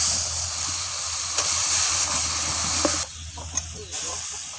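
Soaked whole moong dal hits a hot pan for Dhaba-style egg tadka, giving a loud continuous hiss and sizzle that drops briefly as the pan settles, with a few clinks.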